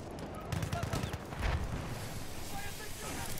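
Gunfire from Battlefield 1 multiplayer crackles faintly in short, scattered bursts behind a low background rumble, partly under speech.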